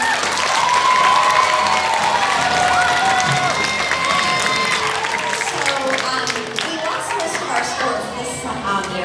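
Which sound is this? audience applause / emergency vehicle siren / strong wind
audience applause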